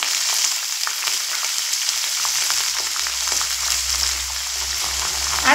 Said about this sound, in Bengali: আর সঙ্গে দেব লবণ, দিয়ে মিডিয়াম ফ্লেম করে ভেজে নেব।